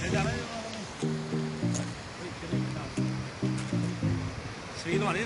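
Canal water pours down at a siphon point with a steady, broad rush. Someone talks over it almost the whole time.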